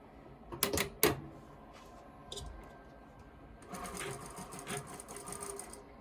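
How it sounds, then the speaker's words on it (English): A sewing machine stitches fabric for a scrunchie, starting about an inch above the seam with a back tack: two short close bursts of rapid needle clatter, a pause, then a longer steady run of stitching. "So we're gonna begin sewing about 1 inch above your seam right here"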